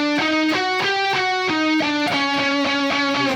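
A distorted electric guitar picks the Hungarian minor scale in steady, evenly spaced notes, loud and gritty, stepping through the pitches one by one.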